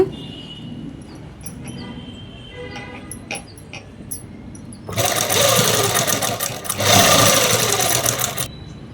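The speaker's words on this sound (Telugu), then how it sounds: "కొంచెం దూరంగానే పెట్టేసి నేను కుడుతున్నాను" A sewing machine stitches a dress from five metres of cloth, first with soft handling clicks and faint whirring, then bursts into two loud, close runs of rapid mechanical stitching.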